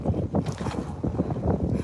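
Strong wind buffets the microphone outdoors on a cold winter day abroad, a continuous loud low rumble with gusty surges and no talking.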